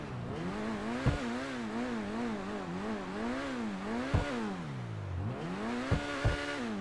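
The Overflod Zeno supercar from GTA 5 Online revs in repeated rising and falling surges, its engine note climbing and dropping several times with a few sharp clicks of gear changes, close and steady throughout.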